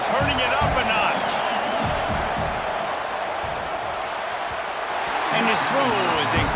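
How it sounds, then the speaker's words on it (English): A dense stadium crowd at a football game roars loudly and steadily throughout, swelling near the end, with a commentator's voice faintly audible over the din. "These fans are going absolutely nuts."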